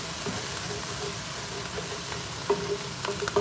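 Garlic paste frying in oil in a pan for an asparagus dish gives a steady, close sizzle throughout, with a few sharper crackles and pops near the end.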